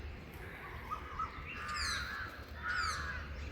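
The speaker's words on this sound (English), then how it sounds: "Yes, bird, yes." Two bursts of crow cawing, each a quick run of harsh calls, sound at moderate distance over steady outdoor background noise, with no talk.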